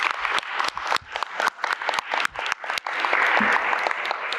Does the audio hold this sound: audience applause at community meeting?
yes